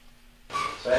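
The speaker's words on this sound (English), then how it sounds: "We're going to add a cup of heavy cream." Heavy cream poured into a hot pan of trout sauce with white wine and lemon bursts into a loud, steady sizzle after a quiet start, swelling further near the end.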